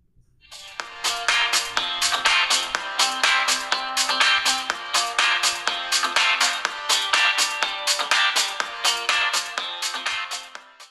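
A Realme 6 Pro smartphone's built-in speaker plays a bright melodic ringtone-like tune, loud and clear with a steady rhythmic run of plucked notes that continues for about ten seconds without any talk.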